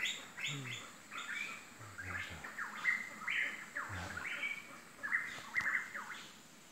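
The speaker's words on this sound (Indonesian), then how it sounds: "burung pitohui di habitatnya langsung" A pitohui calls repeatedly in its wild forest habitat, giving clear ringing whistled notes and rough phrases in irregular bursts, fairly close, with other faint birdsong and rustling in the background.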